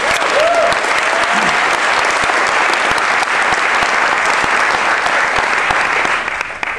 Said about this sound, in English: Let's have a big round of applause for Patti Smith